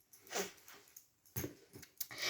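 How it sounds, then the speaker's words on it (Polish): A Rottweiler, Doberman and poodle mix dog close by, making short breathy snuffles and soft vocal noises in a few quick bursts, with no talking. "Roki jest pomieszany z Rottweilerem oraz Dobermanem oraz Kudlem"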